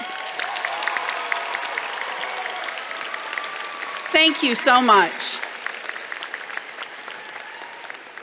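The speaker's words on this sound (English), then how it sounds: "So we would like to show you a round of applause one more time for your support." A crowd at a college commencement ceremony keeps up steady applause with some cheering, while a speaker's voice rises briefly over it in the middle.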